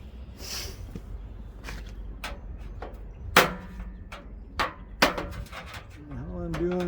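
Several sharp hammer blows strike parts of a front-load washing machine during teardown, spaced irregularly against a quiet workshop background.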